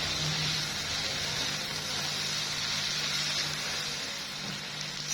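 Spices sizzling and frying in a pan for masala macaroni, a steady soft hiss that runs evenly throughout, fairly quiet and close.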